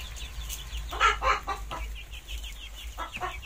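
A large rooster clucks in a series of short, separate calls at close range, with a steady low hum underneath and no speech.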